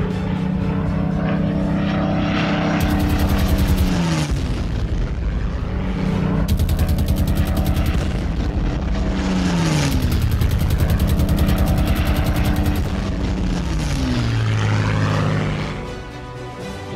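German Luftwaffe propeller warplanes fly during wartime. A loud, steady droning engine roar continues throughout, with several falling-pitch sweeps as aircraft pass close by.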